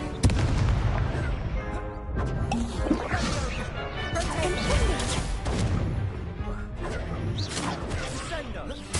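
Booming Confringo blast spells explode in the Hogwarts Legacy game, dense crashing impacts layered over continuous combat noise, loud and close, with a voice shouting spell names throughout.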